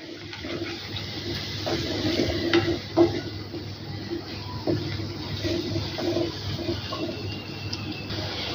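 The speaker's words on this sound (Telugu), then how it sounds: "ఈ ఎగ్ని బాగా ఫ్రై చేసుకోవాలి" Eggs frying over a low-to-medium flame in a pan, stirred and mixed with scattered spatula scrapes and taps over a steady soft sizzle, fairly close and moderately quiet, with no talking.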